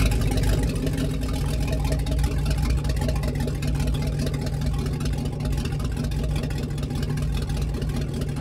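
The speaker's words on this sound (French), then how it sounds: "Je mets en route le moteur, vous entendez?" A motor running at a steady idle for an extreme-sport outing, a continuous droning engine hum with a rough low rumble, close and constant with no talking.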